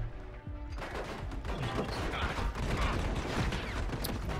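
Gunfire in the video game Army of Two rattles in dense, continuous bursts with mechanical clanks, loud and sustained, while a voice talks faintly underneath.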